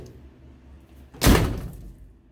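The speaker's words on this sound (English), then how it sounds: "And every time you shut the door" A rusty 1956 Oldsmobile car door shuts once with a loud, heavy slam that rings briefly and fades, after a quiet moment with no talk.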